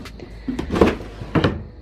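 A drawer in an artist's studio workspace slides open and shut, a few sharp wooden knocks and scrapes close up, with no talking.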